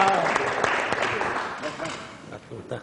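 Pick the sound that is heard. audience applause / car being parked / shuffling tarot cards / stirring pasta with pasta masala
audience applause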